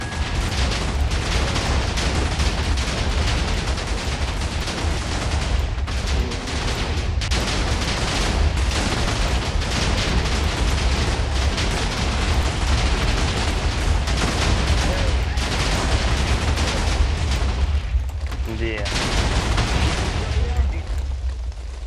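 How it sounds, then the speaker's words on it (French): Huge explosions in the Minecraft video game on a PvP server roar continuously as a dense, loud rumble with crackling bursts, with players talking over the din throughout. "plus grosse explosion du serveur"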